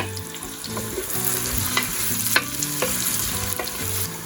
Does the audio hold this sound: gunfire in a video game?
no